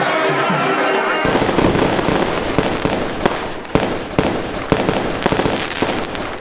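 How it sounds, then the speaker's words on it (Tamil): Fireworks go off at night at a Tamil temple float festival for Muthukumara Swamy. A continuous crackling roar is broken by sharp booming bursts at uneven intervals, loud and fairly close. "அப்போது கண்கவரும் வான வேடிக்கையும் நிகழ்த்தப்பட்டது."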